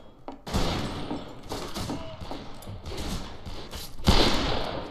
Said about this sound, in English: Ignore the gunshots.